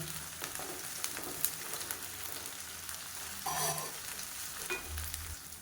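Onions sautéing in a pan for a raw plantain masala poriyal, a soft steady sizzle with occasional stirring scrapes, fairly quiet throughout with a few brighter bursts of crackle.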